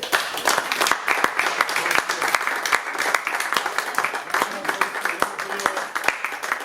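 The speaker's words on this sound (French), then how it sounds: "vous pouvez vous applaudir très très très fort" An audience at a slam poetry tournament evening in Cannes claps for itself, with sharp, uneven hand claps over crowd noise and a few voices mixed in.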